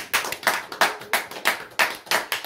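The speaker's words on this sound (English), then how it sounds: "This is where I ask everybody in the booth to please give this young lady a round of applause." Applause for a young girl in a small booth: a few hands clap in a sharp, fairly regular rhythm, about nine distinct close claps over a couple of seconds.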